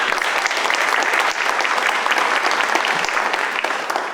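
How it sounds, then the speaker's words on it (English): Steady, dense applause from an audience at a youth career program graduation, clapping for the parents, continuous and fairly even throughout with no voices standing out. "The parents deserve applause."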